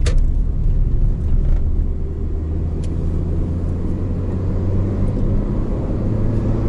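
Lada Granta liftback with a JATCO automatic transmission cruising in second gear on asphalt, giving a steady low engine and road rumble heard from inside the cabin, with no talking.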